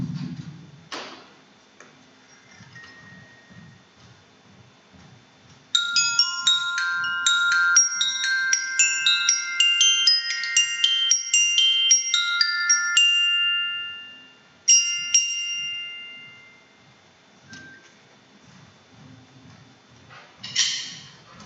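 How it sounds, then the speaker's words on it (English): Orchestra bells, a percussion instrument, ring out in a quick run of bright struck metal notes, then a few more isolated tones, heard close in an otherwise quiet room. "you're going to play an instrument called the orchestra bells, which Katie's going to demonstrate for us."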